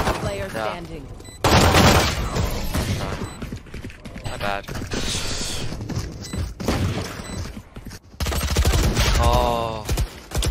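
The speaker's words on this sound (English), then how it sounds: "He missed you and shot me." Gunfire in a Valorant ranked match: a dense string of loud, cracking shots and mechanical clatter, with excited voices talking over much of the action.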